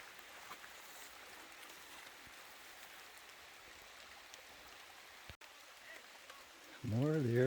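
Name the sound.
Beaver Creek stream flowing, Montezuma Castle, Arizona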